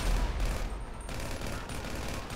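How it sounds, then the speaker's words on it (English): Dense, continuous gunfire in GTA 5 during an LSPDFR police patrol shootout, loud sustained crackling shots overlapping with no clear gaps. "Shots fired, dispatch."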